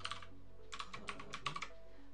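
Keys clatter on a Mac computer keyboard in a quick run of close, crisp strokes with short pauses between bursts, some of them Option-key combinations for diacritics, over a faint steady hum.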